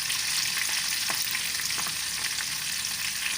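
Black chenna crisps in hot oil, giving a loud, unbroken sizzle close by, with occasional soft stirring scrapes and no talk.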